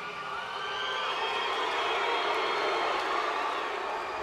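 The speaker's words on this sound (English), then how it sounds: "A mixed reaction by this capacity crowd." Capacity wrestling arena crowd giving a mixed reaction, a dense steady roar of cheers and jeers filling the hall without pause.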